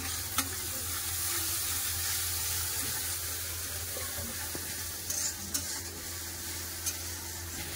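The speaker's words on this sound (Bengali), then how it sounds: "পেঁয়াজ তো ভাজা আছে, তার বেশিক্ষণ ভাজবো না" Onions and chopped tomatoes frying in a pan while being stirred: a steady soft sizzle runs throughout, broken by a few faint utensil clicks, with no talking.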